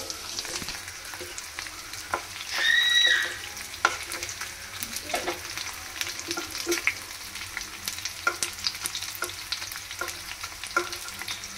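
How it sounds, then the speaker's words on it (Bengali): Onion fritters (peyaji) frying in oil in a home kitchen, a continuous crackling sizzle close by with frequent stirring scrapes and clicks, plus a brief higher whine early on. "এখানে এখন পেঁয়াজি একটু ভাজছি খাবো বলে"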